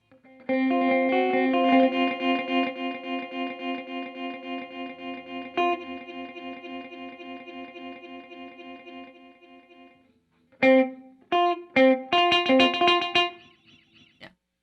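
Guitar through a Cooper FX Arcades pedal with the Grains granular delay card: a sustained chord swells with shimmering, repeating fragments that decay over about ten seconds, then a burst of choppy, stuttering repeated notes follows.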